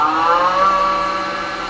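A square carbide chisel cuts into the bottom of a small resin bowl spinning on a woodturning lathe, giving a steady, loud whirring scrape with a sustained tonal whine that holds evenly for the whole moment, with no talk.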